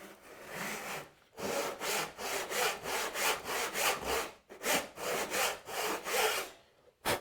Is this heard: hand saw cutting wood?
yes